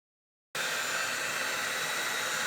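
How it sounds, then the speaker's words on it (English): Heat gun switched on abruptly after a moment of silence, a loud, steady blowing roar like a hair dryer, used to melt down leftover wax. "I will take the heat gun, melt down everything on the side"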